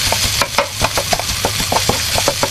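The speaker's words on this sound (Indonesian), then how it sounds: "Oke, kita ratakan terlebih dahulu nasinya." Cooked rice being spread and pressed in a wok with a spatula, a steady run of close scraping taps over a constant low hum of the stove burner.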